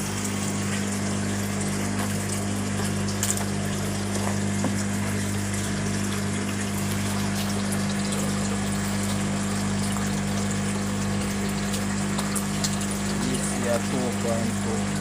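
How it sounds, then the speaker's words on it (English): A submersible pump runs in a water tank in a Jamaican greenhouse, mixing the water with a steady, continuous hum and gushing churn that holds evenly throughout. "Turn on the pump and mix the water."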